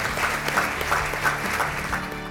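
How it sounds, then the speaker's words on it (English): Guests at a Johns Hopkins fundraising event in Palo Alto applaud a major fundraising milestone with steady, evenly spread clapping that fills the room, over a low background hum. "I think that we can pause here for some applause because that's an extraordinary accomplishment"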